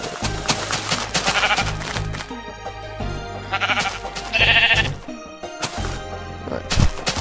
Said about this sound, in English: There's a wolf attacking a sheep, and we'll watch that